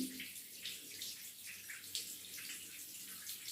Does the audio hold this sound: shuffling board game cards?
no